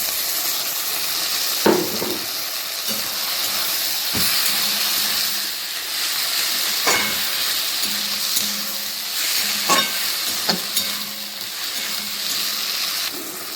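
Mutton frying with spices in a pan, a steady close sizzle and hiss throughout, broken by several sharp clicks and scrapes of stirring.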